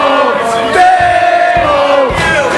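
A wrestling arena crowd roars and chants loudly at a match between Big Damo and Owen Richards, with rhythmic group shouts rising and falling close around the listener.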